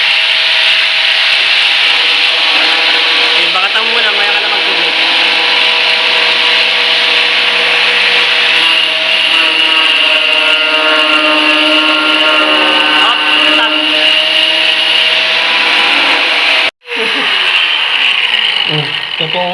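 A cutting disc on an angle grinder bites into hard material, a loud continuous whine with shifting pitch that runs nearly unbroken, cuts out briefly near the end, then resumes; a voice is faintly present under the noise.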